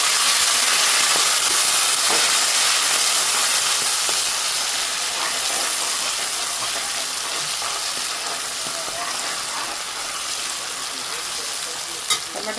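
Green onion and tomato go into a hot oiled pan for a spicy masala egg dish and sizzle loudly in a steady, dense frying hiss that eases off slightly, with no talking.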